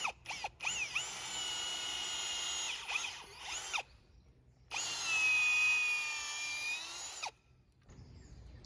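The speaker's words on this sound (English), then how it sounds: "You might have to use the drill function on the drill." A power drill whines into wood while a kiwi trellis is being built, with two long high-pitched runs separated by a brief pause and a few short bursts at the start, close and loud.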